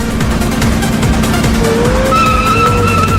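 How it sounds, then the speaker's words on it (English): A car swerves hard in Shin Hayarigami 2 on PS4. Loud, close tire squeals rise and hold over a constant engine rumble and road noise. "I instantly turn the steering wheel to the right and dodge it to the right lane"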